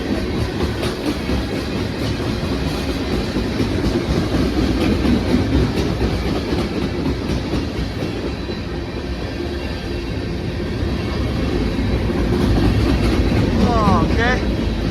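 A Norfolk Southern manifest freight, train NS 11K, rolls past westbound with PRR-painted NS 8102 leading Missouri Pacific and Soo Line cars. It gives a loud, close, continuous rumble and clickety-clack of wheels throughout.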